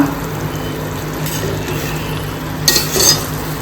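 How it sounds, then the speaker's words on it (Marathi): Pomfret fish curry seasoned with salt is stirred gently in a pot, with soft scraping and a couple of brief utensil clinks near the end, close and moderately loud over a steady background hum. "आता हे व्यवस्थित हलक्या हाताने मिक्स करूया"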